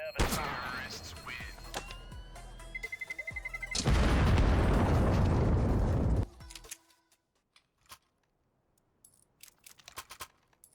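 C4 bomb detonating in a Counter-Strike style shooter on the de_epitaph map, preceded by rapid beeping, then a loud, roaring blast lasting a couple of seconds before sudden quiet with scattered faint clicks.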